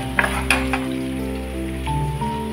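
Crushed garlic and curry leaves frying in a pan, a close, steady sizzle with a few sharp pops and crackles near the start, with no voices.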